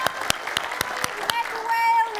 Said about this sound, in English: Can we give her a great big clap?